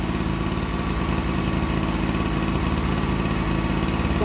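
A Japanese domestic petrol generator runs steadily at a moderate level, a continuous even engine drone with fine rapid vibration and no breaks, heard alone.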